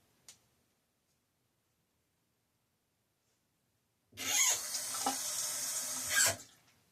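Water pours from a tap into a shaving lather bowl, a steady close rush lasting about two seconds after a quiet pause and a faint click.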